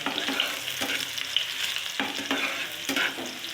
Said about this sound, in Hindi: बस हल्का सा लाइट ब्राउन करूँगी मैं प्याज,